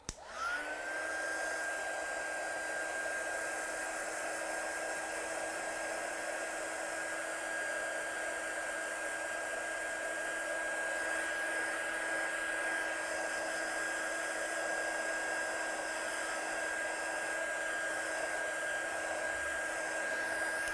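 A hair dryer blows steadily on stamped cardstock for about twenty seconds, a loud, continuous whine with an even airy rush and no pauses, heard close up on its own.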